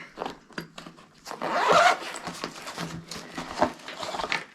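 A zipper is drawn open on the front pocket of a sea fishing box, producing a close, loud, continuous zipping rasp that swells and then trails off into small handling rustles.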